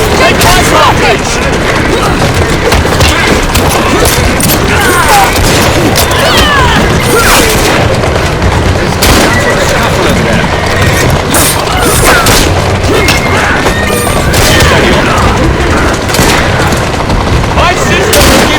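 Loud booming rocket explosions and crashing impacts in the video game Assassin's Creed Syndicate, a continuous barrage of blasts with gunfire mixed in and voices shouting over the chaos.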